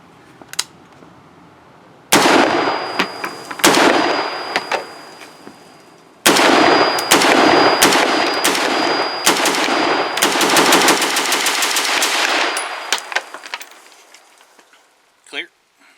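Brownells BRN-601 retro USAF AR-15 Colt-clone rifle firing: a few single shots, then loud, close bursts of rapid shots separated by short pauses, with a faint clatter at the end.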